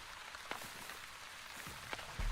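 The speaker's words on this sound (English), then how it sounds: "Rain falls upon Onbu and raises humidity." Light rain in The Wandering Village, a soft steady hiss of falling drops with a couple of faint patters, quiet and even.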